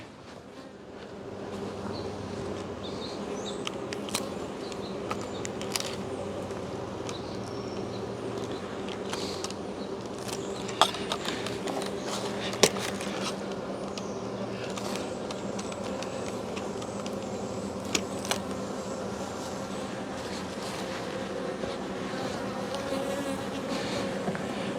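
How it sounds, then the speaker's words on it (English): Honeybee drones swarm around a beekeeper working an open hive, making a dense, continuous buzz that stays close and loud throughout with no talking. "Got a lot of drones buzzing me."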